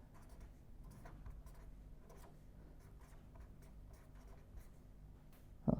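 Chalk or marker writing out equations during a probability theory lecture, a steady run of faint scratchy strokes and taps in a quiet room, with a brief louder knock at the very end.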